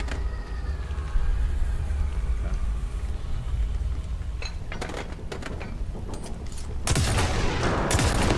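Rockets fire and explode in a video game, a rumbling series of booms and crackling blasts that builds to a loud burst near the end, with faint game noise underneath.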